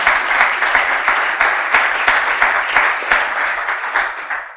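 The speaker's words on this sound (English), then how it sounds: "I'd like to give them a special round of applause to Congressman Bishop and Congressman" An audience at a food security summit gives a sustained round of applause for two congressmen, loud and close, with dense clapping swelling in regular surges throughout.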